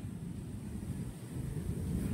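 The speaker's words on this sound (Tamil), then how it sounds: "அலை ரொம்ப அதிகமா அடிச்சனால அங்க பாருங்க சூறாவளி மாதிரி அடிக்குது" Strong sea surf pounding the shore in heavy wind, a continuous loud roar of waves with wind buffeting the microphone throughout, no talking.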